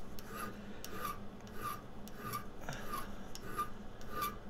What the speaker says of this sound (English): I want to file a flat spot right in the middle